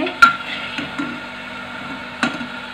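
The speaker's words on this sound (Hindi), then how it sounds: "ये 1 छोटा चम्मच धनिया पाउडर ऐड कर रही हूँ। इसे भी हम 1-2 सेकंड के लिए भून लेंगे।" Coriander powder frying briefly in a pan, a soft low sizzle with a few sharp clicks of a spoon against the pan.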